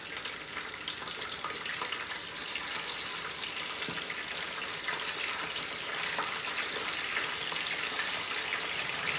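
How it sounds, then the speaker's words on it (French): Washed fish, cut into medium pieces, frying in hot oil gives a dense, steady sizzling hiss that carries on evenly throughout without any voices. "Donc, je vais venir passer à la friture."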